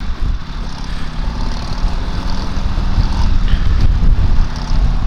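Buell motorcycle engine revving on a ride near Aubrey, Texas, a loud continuous low rumble with rising and falling throttle swells and heavy wind noise throughout.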